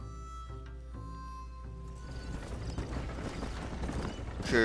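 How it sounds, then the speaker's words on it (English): Horse hooves clip-clopping in the Red Dead Redemption video game during a horse racing mission, a run of even hoofbeats at first, then a fuller, rising mix of hooves and game noise. "it's basically a horse racing mission"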